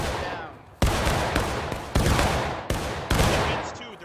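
Musket fire from a line of soldiers in the War of Rights video game erupts in about five loud, sharp, ragged volleys, one after another within a few seconds.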